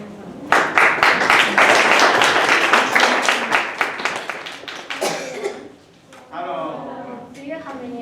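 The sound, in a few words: audience applause for a speech contest speaker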